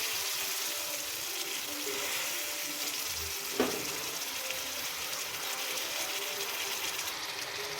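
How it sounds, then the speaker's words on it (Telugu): Soaked red lentils go into hot oil with ginger paste that has been fried a little, giving a steady close sizzle and frying hiss with a brief clatter midway, with no talk. "అల్లం పేస్ట్ ఆయిల్లో కొంచెం ఫ్రై అయ్యాక నానబెట్టుకున్న మనము ఎర్రపప్పు అయితే వేసేసుకుందాము"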